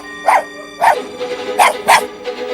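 A dog barks five times in an uneven rhythm, loud and close, in a Hindi fairy-tale cartoon about a traveler and a jeweler; no talking over it.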